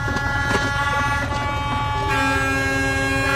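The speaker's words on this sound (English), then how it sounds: "listen to the horns" Truck horns blare at a busy container port where a long line of waiting drivers sits, several steady horn tones sounding at once and overlapping continuously, loud and sustained with a shift in pitch partway through.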